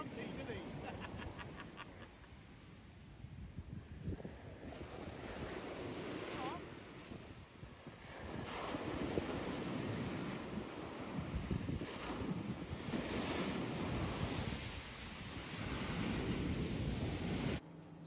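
Waves wash onto the beach at Blackpool Sands in a loud, continuous surf roar that swells and recedes, mixed with heavy wind buffeting the microphone.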